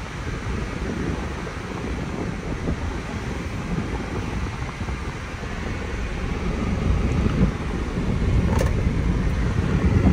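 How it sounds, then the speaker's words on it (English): A 2002 Ford Escape XLS rolls forward, its engine and road noise forming a steady low rumble with wind buffeting, rising slightly toward the end, with no talk over it. "We'll drive forward a little bit. Shifts are smooth."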